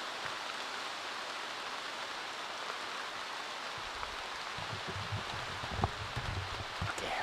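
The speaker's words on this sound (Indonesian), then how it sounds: "Oke, hujan mulai turun." Rain during a storm in a forest falls as a steady broadband hiss, with heavier drops and patters on nearby surfaces growing more prominent in the second half.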